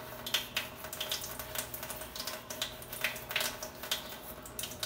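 Water runs from a garden tap while plants are watered at a new house, a steady broadband rush with faint splashing, fairly soft and continuous, with no talk over it.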